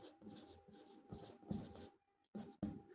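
Marker or chalk writing on a board, with quiet scratchy strokes in short bursts and brief pauses between, close and faint.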